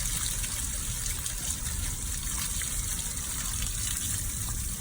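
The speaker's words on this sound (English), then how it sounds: "what I'm going to do now is I'm going to rinse this off" Water rinses soap off a western saddle, a steady close spray or gush that runs without a break and with no talking.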